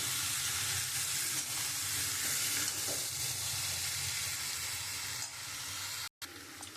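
Kidney beans (rajma) fry with spices in a pan, a loud dense continuous sizzle with a soft stirring rumble underneath, briefly cut by a momentary dropout near the end.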